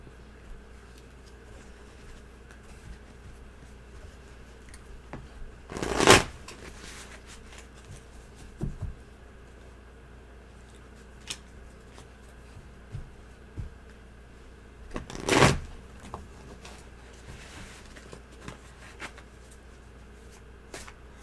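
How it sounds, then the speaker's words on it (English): Two brief riffling bursts of tarot cards being shuffled, several seconds apart, over a quiet room hum with faint handling taps in between. "Shuffle and cut."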